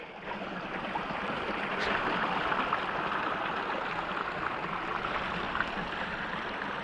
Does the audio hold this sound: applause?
no